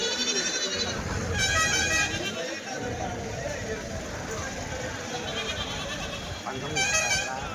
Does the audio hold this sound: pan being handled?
no